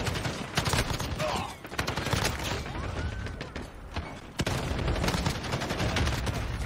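Sustained automatic gunfire in Call of Duty: Modern Warfare on the Shipment map, with rapid bursts of shots, brief lulls and a sharp pause, then heavy firing again, loud and close with game effects mixed in.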